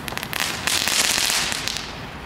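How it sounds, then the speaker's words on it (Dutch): Rapid bursts of consumer fireworks crackling and popping, dense and loud, with sharp repeated bangs throughout. "Het vuurwerk is gewoon slecht."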